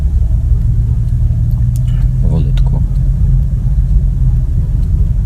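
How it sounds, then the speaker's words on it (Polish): Steady, loud road rumble and engine drone carry on from inside a car cruising along a three-lane motorway among other traffic, while a voice briefly speaks over it. "Wszyscy jadą na trzech pasach, bo jesteśmy na autostradzie."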